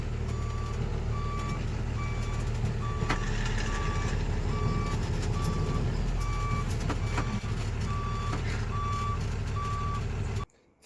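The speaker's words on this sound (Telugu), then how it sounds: "బండి కట్ అవుతలేదు రివర్స్ వస్తుంది" Timber-loaded truck reversing, with its reversing alarm beeping in a steady, evenly spaced series over a loud idling engine rumble, continuing without pause until a sudden cut-off at the very end.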